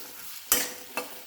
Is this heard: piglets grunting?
no